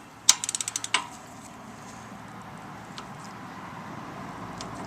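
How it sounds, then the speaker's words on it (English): A torque wrench ratchets on a voltage regulator bolt of a 2010 Harley Road Glide, making a quick run of about six sharp clicks followed by a single louder click, then a faint room hush. "So I've got my torque wrench set to 85 inch-pounds"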